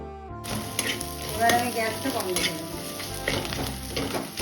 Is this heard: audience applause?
no